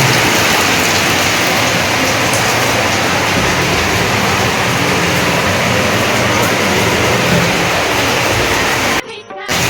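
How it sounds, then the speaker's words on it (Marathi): Heavy rain pouring outside near a temple, a loud dense unbroken roar that stays steady for most of the clip before briefly dropping out at the end. "पाऊस बऱ्यापैकी चालू झालेला आहे"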